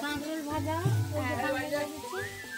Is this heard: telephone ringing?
no